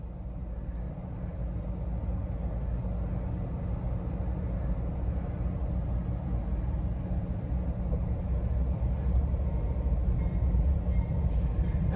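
A train rolls past up close, its rumble a loud, continuous roar of rail noise that stays steady and builds slightly toward the end, with no talking.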